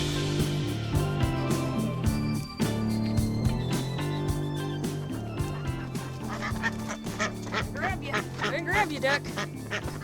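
Ducks on a homestead quack repeatedly in a loud, steady flurry close by, with a voice speaking over the calls.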